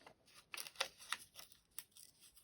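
Scissors snip off a blue piece of paper for a bright maximalist junk journal page, a handful of crisp, quick cuts in an irregular rhythm, close and fairly quiet with no talking.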